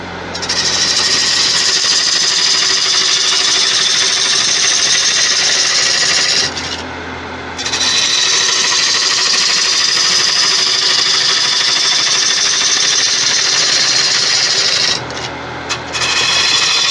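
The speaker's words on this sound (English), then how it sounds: "We'll give this gouge a sharpen." A woodturning gouge is sharpened on a grinder, giving a loud, steady grinding rasp that runs in two long passes with a brief pause between them.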